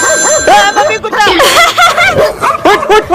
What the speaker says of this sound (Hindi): मम्मी कुत्ता।